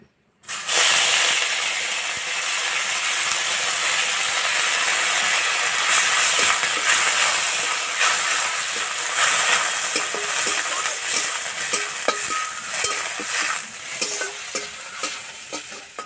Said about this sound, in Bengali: এই তেলে নিম পাতা ভেজে নেব।